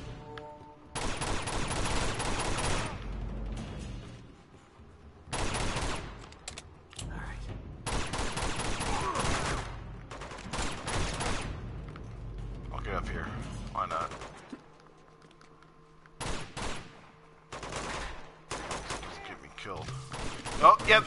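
Bursts of gunfire and explosive launcher fire in the Uncharted 2 monastery level, several loud volleys separated by short pauses, with a voice talking between shots.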